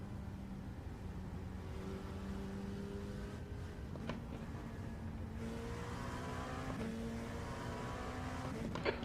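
An LMP2 race car engine in iRacing at the 6 Hours of Spa drones steadily with a buzzing, harmonic tone, its revs climbing and shifting as it pushes ahead, loud and continuous throughout.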